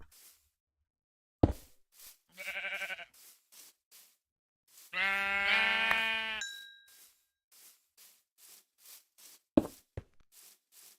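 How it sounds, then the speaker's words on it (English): Sheep bleating in a blocky survival crafting video game, with two distinct bleats, a short one and a longer wavering one, set among regular soft footstep taps and a few sharper knocks, with no talking. "here's a sheep over in this direction"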